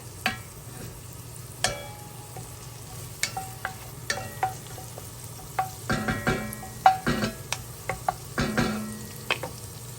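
Garlic sizzles in melted butter in a pan for clams in white wine garlic butter, a soft steady frying hiss broken by frequent crackles and pops and a few utensil clicks, with no talking.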